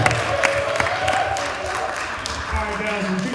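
An audience at a survivors of violence event cheers and claps with scattered whoops, a moderate crowd roar running steadily throughout with a voice talking over it.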